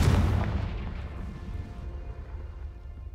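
A Confringo fire spell explodes in the game Hogwarts Legacy: a loud, deep blast right at the start that rumbles and fades into a low, steady roar over a few seconds.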